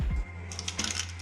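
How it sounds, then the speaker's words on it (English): Keys on a Tt eSPORTS Commander budget mechanical keyboard clatter in a quick burst of light, crisp clicks, close and fairly faint, after a low hum. "Now here's the audio for its clicky noise."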